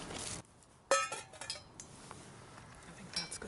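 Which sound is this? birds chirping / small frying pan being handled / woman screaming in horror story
small frying pan being handled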